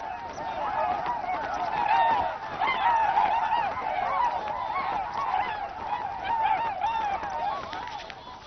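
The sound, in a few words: migratory birds honking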